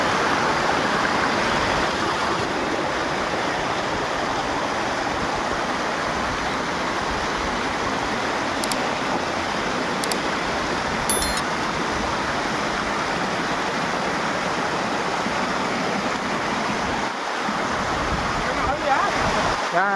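Water rushes loudly and continuously at Visapur Fort, a close, steady wash like a stream or waterfall. Voices come through now and then.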